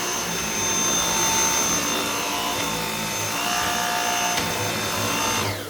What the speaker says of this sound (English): बाल क्लीन करने के लिए सबसे बेस्ट वैक्यूम.